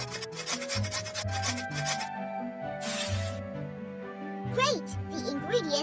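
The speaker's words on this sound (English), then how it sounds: "We need to grate this." Pizza ingredients are grated in short rhythmic rasping strokes at close range, under background music, with a brief spoken line near the end.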